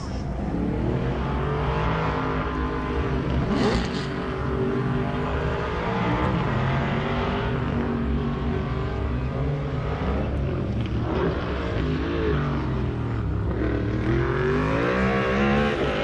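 A 1967 Camaro race car at full throttle on a hill climb, its engine droning loud and steady with rising and falling pitch as it works up the course, heard over a continuous roar with faint commentary in the background.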